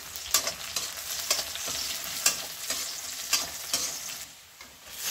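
Whole red chillies fry in a pan with a steady, close sizzle, broken by regular scraping clicks from stirring roughly every second.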